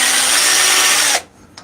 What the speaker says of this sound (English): it always breaks out when you drill through